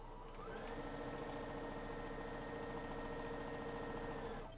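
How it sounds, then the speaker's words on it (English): A freshly oiled sewing machine, driven by its foot pedal with the presser foot lowered, runs at a steady, smooth whir with a faint rapid mechanical rhythm, starting up and holding speed throughout, with no voices. "then I can actually put the presser foot down and run this with my foot"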